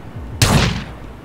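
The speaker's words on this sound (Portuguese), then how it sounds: "Essa daqui eu acho que é a M4. Essa é a M4." An M4 rifle in GTA IV fires one loud close shot that rings out and decays over most of a second, with nothing else heard.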